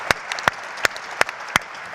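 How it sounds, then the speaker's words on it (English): Sharp handclaps repeat at a slow, even pace, about six distinct claps, crisp and close with little crowd noise. "And applause"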